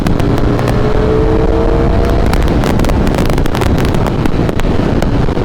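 Riding a Ducati V4 Streetfighter motorcycle with no wind protection, heavy buffeting wind noise roars over the engine's low drone, broken by sharp gusty thumps, loud and continuous with no talk.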